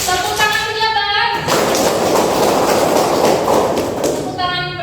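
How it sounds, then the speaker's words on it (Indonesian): Classroom of students clapping together in an 'official' style of applause, a dense burst of rhythmic hand claps lasting a few seconds, with a teacher's voice before and after. "tepuk tangan pejabat"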